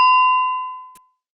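A single timer bell dings once during a reading-aloud exercise, a clear bright strike that rings out and decays smoothly over about a second, heard alone with no voices.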